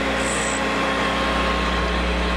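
A grinding wheel sparking out on a drill bit as the bit is slowly turned against it, a steady motor hum with a faint high whine throughout.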